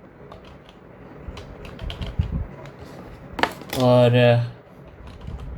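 Keys tapped on a computer keyboard while entering a debit card number, a scatter of light clicks followed by a short burst of sound, with a brief spoken word in the background.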